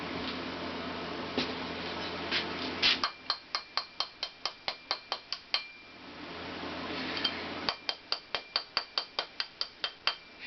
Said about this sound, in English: If you don't know it, hit it with a hammer